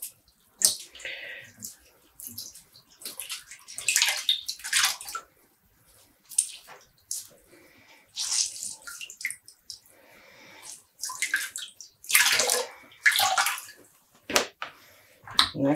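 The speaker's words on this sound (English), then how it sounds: "And squeeze up water." Dyed yarn being squeezed by hand, releasing bursts of dripping and splashing water in irregular pulses with quiet pauses between, close and fairly clear.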